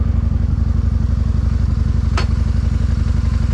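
A motorcycle that hasn't been ridden or started in a long while idles with a steady, close, rapid low thumping, plus one brief sharp click partway through.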